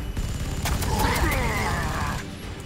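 Units open fire in the turn-based video game Warhammer 40,000: Sanctus Reach, producing a rattling volley of rapid shots with a whooshing streak over it, loud and close, fading after about two seconds.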